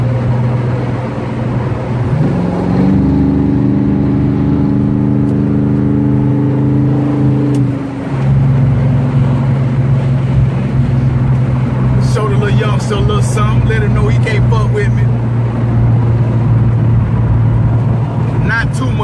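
A car engine runs steadily while driving, a loud droning hum heard from inside the cabin, with a shift in pitch as it changes speed, and a voice talks over it.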